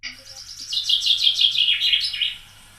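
A robin sings a rapid, continuous run of bright warbling phrases, clear and fairly close, with a low steady hum underneath.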